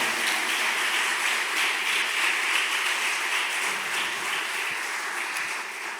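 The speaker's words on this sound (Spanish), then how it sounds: "Dele palmas" Church congregation claps together in a dense, sustained rain-like patter that stays steady for several seconds, with no voices rising above it.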